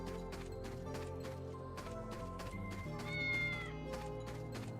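Cartoonish cat meows from the video game Fantasian Neo Dimension, a few short mews over looping game music with plucked melodic notes.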